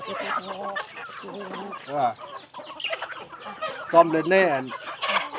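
Burmese fighting chickens clucking and squawking close by in a village, repeated short clucks in bursts with someone speaking briefly among them.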